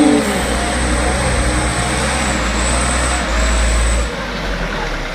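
A heavily loaded palm oil truck climbs a slippery uphill slope, its diesel engine droning loud and steady under strain, with a brief hiss of air and a low rumble that shifts near the end.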